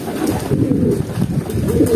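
Racing pigeons cooing in a loft, a low, continuous burbling coo that is close and fairly loud, with faint wind or background noise underneath and no one speaking.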